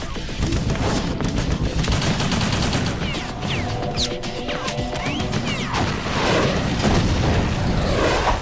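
Dense, continuous gunfire and crashing impacts from Metal Gear Solid 2: Sons of Liberty, with loud repeated shots and bursts layered over game effects, running throughout at a steady, chaotic intensity.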